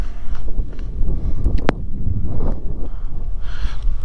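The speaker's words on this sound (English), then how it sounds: "It's actually windy today" Steady wind rushing and buffeting against the microphone, a low continuous roar with no voices.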